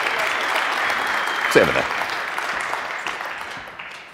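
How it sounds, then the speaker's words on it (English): An audience at a tech conference gives a round of applause for an Ubuntu community leader, a steady wash of clapping that tapers off, with someone briefly speaking over it. "give him a big round of applause"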